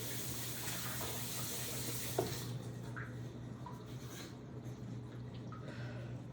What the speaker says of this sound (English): And then, wash my hands.